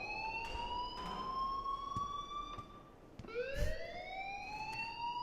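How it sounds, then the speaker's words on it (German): Wailing siren-like school alarm from Life is Strange, a rising and falling electronic tone that dips and restarts midway, continuous and prominent with no speech over it. "please turn off that alarm since that's your job."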